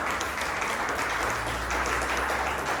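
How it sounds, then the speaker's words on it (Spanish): A church congregation applauding together, steady dense clapping that fills the whole moment, loud and close without letting up. "Denle un aplauso al Señor."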